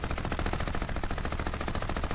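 Rapid automatic gunfire in the shooter game Crysis Remastered, a dense, continuous burst of loud shots with no pauses.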